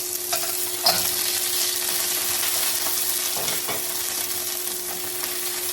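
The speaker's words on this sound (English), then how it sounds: "Just leave those in for a minute to sit and sizzle away" Shrimp sizzle while being stir-fried with vegetables and noodles in a pan, a steady hissing crackle that holds at an even level, with a few brief clinks and stirring scrapes along the way.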